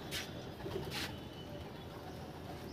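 Pigeons coo faintly in the background, with a couple of short, sharp bursts that may be flapping wings, over low steady ambient noise.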